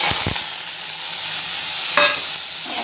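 Shredded cabbage frying in a hot wok gives a steady, close broadband sizzle, with a few brief scraping stirs near the start and a short clink partway through; nobody speaks.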